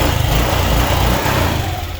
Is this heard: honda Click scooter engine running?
yes